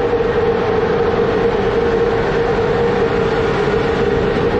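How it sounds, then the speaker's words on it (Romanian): A passenger train bound for Constanța rolls past in a steady, loud, continuous rumble with a sustained mechanical drone, heard alone without voices. "Dar ăsta e trenul de Constanța."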